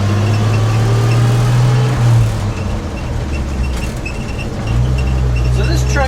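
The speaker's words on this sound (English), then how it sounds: "I pulled the carburetor off and I rebuilt the carburetor, and as you can tell, it's running." Old Ford F100 truck with a freshly rebuilt carburetor running while driving, a loud, close low engine drone with rises and dips in pitch as it moves, plus some cabin rattle.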